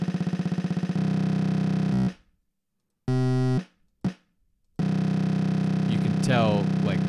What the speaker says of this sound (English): that is total machine gun effect right there